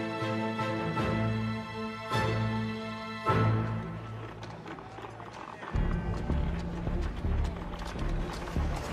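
Horses clip-clop along a street in a historical dramatization, hooves knocking under a loud orchestral music score that swells and shifts throughout.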